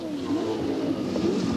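A brand-new V8 Ford Falcon Group A touring car races at Adelaide in 1992, its engine note rising and falling as it works through gears, a sustained roar heard from some distance.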